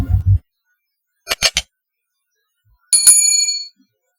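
Short notification sound effect: a soft low thump, then a quick triple clicking burst, then a bright bell-like chime that rings and fades, all clean and close with no talk.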